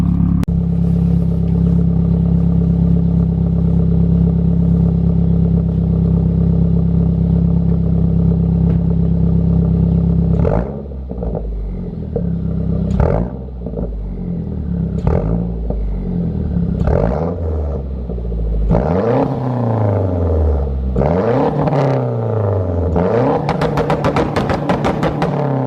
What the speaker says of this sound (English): Let's do some revs, and hopefully you guys enjoy it.